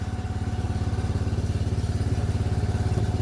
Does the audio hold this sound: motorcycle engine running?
yes